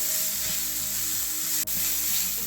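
Radish paratha filling with fresh green coriander sizzles steadily in a hot pan, with soft scraping stirs breaking through the constant frying hiss and one sharp tap near the middle.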